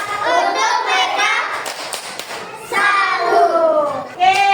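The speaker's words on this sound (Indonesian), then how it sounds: "Tepuk salut untuk kelompok 1." A school class gives group 1 a rhythmic clapping salute, children's voices chanting in unison with quick taps and claps mixed in, close and lively.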